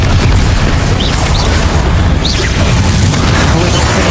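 Confringo blasting spell in the Hogwarts Legacy game: a loud, booming explosion that fills the whole short stretch, heavy low rumble with crackling debris, close and dense.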